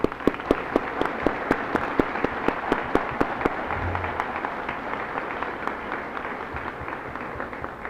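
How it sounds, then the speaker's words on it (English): An audience applauds at a ceremony in Oklahoma City, opening with a run of sharp, evenly spaced claps that blend into a steady wash of clapping. "Let's give him another round of applause."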